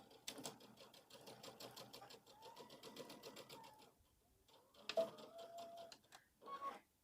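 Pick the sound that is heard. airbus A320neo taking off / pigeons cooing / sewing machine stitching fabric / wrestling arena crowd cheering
sewing machine stitching fabric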